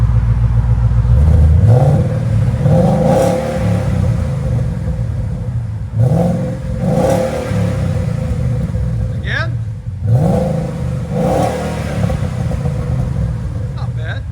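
A 2014 Ford Mustang GT with a 5.0L V8 and cut-out mufflers fitted with closed valves, revving in a few separate throttle blips that rise and fall over a steady idle, fairly subdued and close by.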